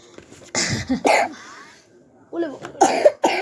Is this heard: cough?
yes